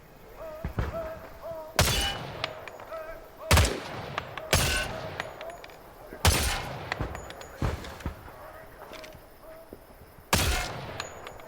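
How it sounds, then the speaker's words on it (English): Gunfire from shooting at targets in Hell Let Loose: Vietnam: several loud, sharp single shots spaced a second or two apart, each with a short echoing tail, over faint background ambience. "Shoot the targets ahead, aiming for the helmet to guarantee an instant kill"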